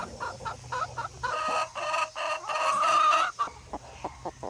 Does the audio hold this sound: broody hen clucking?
yes